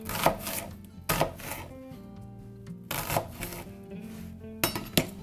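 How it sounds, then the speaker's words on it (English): A knife roughly chops vegetables on a cutting board in four separated bursts of quick, close, crisp strokes, with quiet pauses between them. "gonna blend this anyway, so I'm just gonna chop it roughly."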